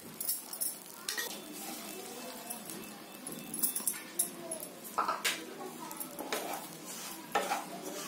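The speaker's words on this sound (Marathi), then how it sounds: "थोडंसं आहे, आणि रवा भाजून घेते" Semolina roasting in ghee in a pan for upma, with scraping stirs and spoon knocks against metal over a faint sizzle, close by, while someone talks in between.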